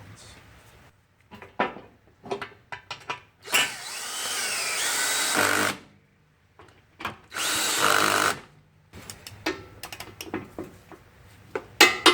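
A power tool drives 10 mm bolts into a Ford Super Duty V10 4R100 transmission, with two long whirring runs and short bursts amid clanks and handling noise of tools and parts.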